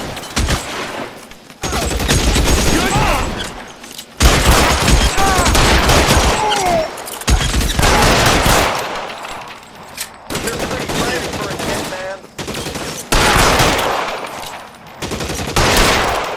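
Gunfire in an L.A. Noire shootout, repeated loud bursts of rapid shots in heavy clusters with short pauses between, close and dominant.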